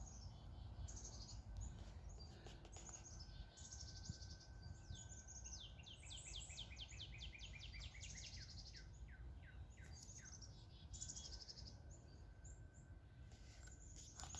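Many birds sing outdoors in a quiet park, a dense run of rapid, high trilling and chirping phrases that repeats throughout, fairly faint and distant against a low steady background, with no talking.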